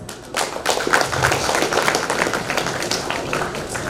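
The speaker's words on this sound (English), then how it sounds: "Let's give them a huge round of applause." An audience at a school annual day function claps after a stage performance, a sustained, moderately loud wash of applause from a crowd in a hall.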